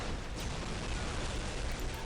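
Dense, continuous rumbling explosions from bolter fire in Warhammer: Dawn of War, a loud unbroken wash of blasts filling the whole stretch.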